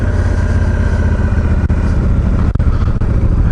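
A Honda Africa Twin motorcycle engine running steadily in spring snow after the bike stops in a snowbank, a loud, close, continuous drone with brief dips.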